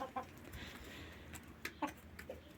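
Hens in a farmyard give a few soft, scattered clucks, faint and intermittent over a quiet outdoor background.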